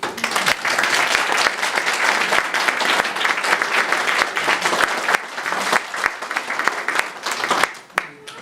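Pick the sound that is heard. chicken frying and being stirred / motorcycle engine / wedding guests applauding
wedding guests applauding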